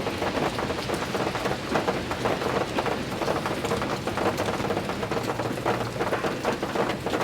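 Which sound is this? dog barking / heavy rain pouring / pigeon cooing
heavy rain pouring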